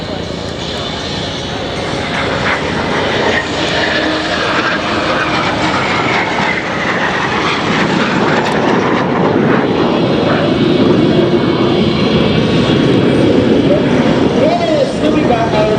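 Patrouille de France jet display team roars overhead at the Duxford air show, a loud, sustained jet engine rush that swells and shifts as the aircraft pass, with a commentator's voice faintly underneath.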